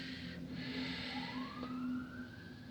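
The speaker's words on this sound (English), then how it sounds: "That was a fire truck that went by with the siren." A fire truck siren rises and sweeps upward in pitch as the truck passes at a moderate distance, over steady low traffic rumble.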